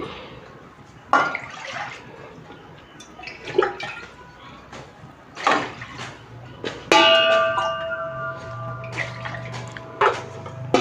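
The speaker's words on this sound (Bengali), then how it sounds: "কড়াইতে জল দিয়ে দিচ্ছি।" Water poured into a kadai for boiling cut jackfruit, splashing in uneven gushes with some metallic ringing from the pan, close and fairly loud.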